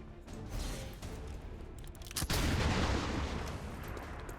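Gunfire in the strategy video game XCOM 2: a steady, loud crackle of shots rolls on throughout, with one sharper, heavier blast hitting near the middle and a dense rumble continuing after it.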